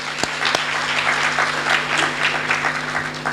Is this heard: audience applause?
yes